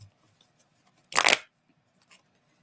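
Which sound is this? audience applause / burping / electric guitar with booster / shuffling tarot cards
shuffling tarot cards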